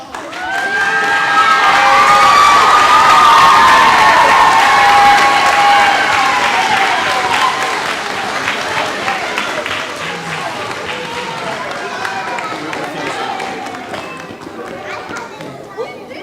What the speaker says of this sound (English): Let's have one more round of applause for all of our musicians.